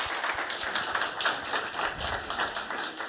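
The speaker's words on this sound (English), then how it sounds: "Can you please give the panel a warm applause?" A live audience applauds a panel at an education hackathon main stage event, a steady wash of many hands clapping at moderate volume throughout, with no voices on top.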